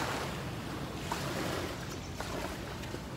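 Waves washing onto a small beach at high tide at Spanish Banks, a steady broadband surf wash with wind noise, continuous and fairly close, with no talking.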